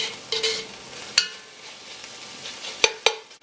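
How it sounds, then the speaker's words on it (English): Spoon stirring coconut cream in a pot for Jamaican callaloo with saltfish, a soft scraping swirl with a few sharp clinks of utensil against the pot, close and alone. "Give it another quick stir."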